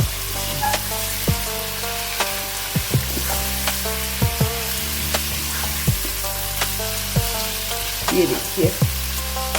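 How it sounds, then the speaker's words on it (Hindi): Meat frying in a pan for aloo gosht curry, a loud continuous sizzle broken by repeated clanks of a spoon stirring against the pan, with someone briefly speaking. "ये हम मीट को ऐड करेंगे और मीट को थोड़ा सा फ्राई करेंगे।"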